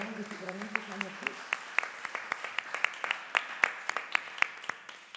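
Conference audience at a teaching seminar applauding a comment, a sparse room of individual claps ringing out in a loose rhythm at modest volume, with talk heard briefly at the start.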